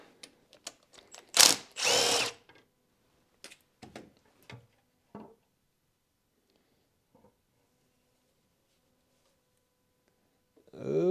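A power tool removes the last bolt from a BMW N43 engine, a couple of short loud whirring bursts close by, followed by scattered clicks and light metallic handling, then near quiet before another burst at the end.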